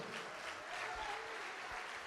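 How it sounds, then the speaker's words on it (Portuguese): Church congregation applauding together in a sustained, even wash of clapping that sounds somewhat distant and reverberant, with faint voices mixed in beneath it. "Vamos aplaudir ao nome do Senhor."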